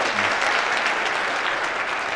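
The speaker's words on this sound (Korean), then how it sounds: "박수해 주시기 바랍니다." An audience at a choir concert greets a guest family with steady, dense applause, continuous and fairly loud across the whole moment.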